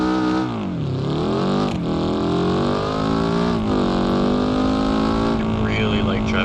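A Piccolina car driving in BeamNG.drive on the West Coast USA map, its engine a loud, continuous buzzing whine that drops, climbs and dips again as it revs through the run.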